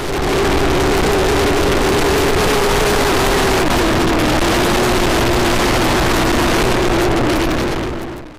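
A motorcycle ride captured by a Thinkware M1 dashcam, with loud, constant wind buffeting roaring over a low steady engine hum for the whole stretch, then fading out at the end.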